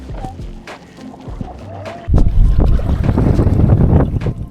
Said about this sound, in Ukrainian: Вітер дме, але особливого впливу на нас він не має.